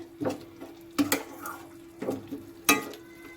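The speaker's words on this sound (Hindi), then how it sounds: "तो देखिए मसालों को इसी तरह धीरे धीरे चलाते रहना है और इसे पकाना है।" Spices for mushroom curry are stirred slowly in a pan, giving soft intermittent scrapes and clinks of a spoon against metal over a faint sizzle, close and quiet.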